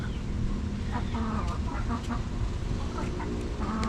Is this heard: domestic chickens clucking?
yes